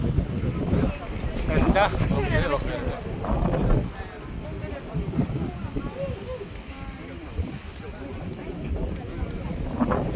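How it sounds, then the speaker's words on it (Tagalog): Strong wind buffets the microphone at the top of the Big Buddha in Hong Kong, a constant low roaring rumble throughout, with voices talking over it. "grabe ang hangin dito sa taas"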